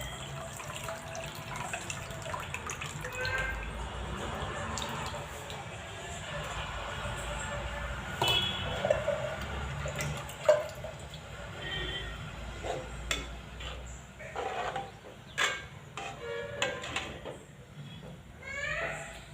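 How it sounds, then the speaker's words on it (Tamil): Dissolved tamarind water for vathal kulambu poured into a pan, a steady watery pour and splash with a few soft clatters and clinks toward the end, fairly close and without talk. "நம்ம கரைச்சி வச்சுருக்க புளியை வந்து இதில் வந்து ஆட் பண்ணிக்கலாம்."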